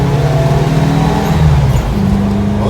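Turbocharged 1970 Volkswagen bay window bus accelerating, loud engine drone with a clear rising and shifting pitch over about three seconds, heard close from inside, no talking.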